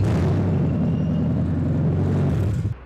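A car engine with its catalytic converter missing cranks and runs with a rough, loud, rumbling drone, steady for a few seconds before cutting out.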